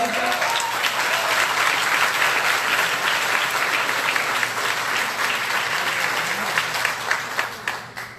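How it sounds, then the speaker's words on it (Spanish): A lecture-hall audience at a university talk gives sustained loud applause, a dense wash of many hands clapping that holds steady and then thins toward the end. "¿Aplauden al travesti, a Bolsonaro o a mí?"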